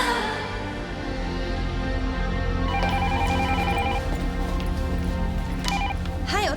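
A telephone rings in a university research lab office in a Japanese drama scene, its electronic ring steady and fairly loud over a busy background of tones for several seconds.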